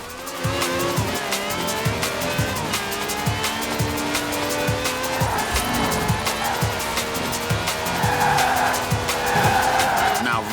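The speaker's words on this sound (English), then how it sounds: "No clattery diesel engine here. This has a V12 with over 750 horsepower" A V12 car with over 750 horsepower in Forza Horizon 4 accelerating hard with squealing tires and skidding, with a continuous loud engine roar and rapid gear-linked pulses, a voice briefly heard.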